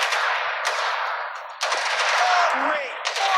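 Gunfire from the mobile video game Gangster City, a dense stream of rapid automatic bursts with sharp restarts, loud and close, with a brief voice line and game sounds mixed in.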